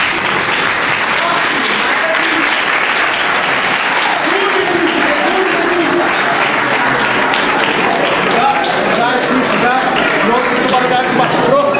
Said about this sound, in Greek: Ένα χειροκρότημα